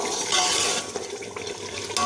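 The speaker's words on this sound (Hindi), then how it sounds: "फिर हम इसमें थोड़ा सा पानी डालते हैं।" Water poured into a pot of beef tail meat cooking in its own ghee, a short splashing, gurgling pour heard up close with no voices.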